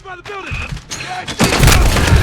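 A grenade blast and gunfire in Call of Duty Modern Warfare: a heavy booming explosion hits late, followed by sustained rumbling and shots, with someone speaking briefly before it.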